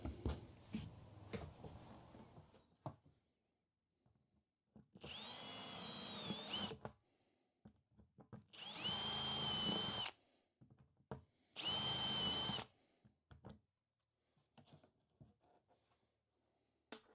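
A power drill bores holes through a template into a repurposed workshop cabinet in three short, loud bursts separated by quiet pauses, with faint handling noises before the first burst.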